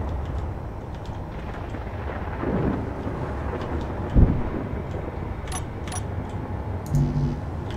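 Low thunder rumbles through a lightning storm in Space Engineers under a steady rain-like wash, with one sharper boom midway, scattered ticking crackles near the end, and a faint tonal hum at the close.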